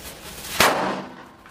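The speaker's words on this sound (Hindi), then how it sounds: "दूसरा वाला भी ऐसे ही धमाका चला, मस्त वाला" A homemade Diwali firecracker goes off in a single sharp bang, loud and close, with a brief crackling tail fading over the next second.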